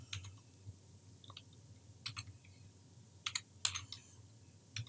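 Sparse, quiet keyboard taps in small clusters with gaps between them, faint against a low background hum.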